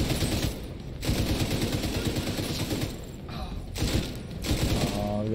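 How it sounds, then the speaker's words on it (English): Sustained automatic gunfire in The Division 2 rattles in dense, repeated bursts with brief gaps, loud and close, with occasional faint voice chatter. "Someone's firing me, dude."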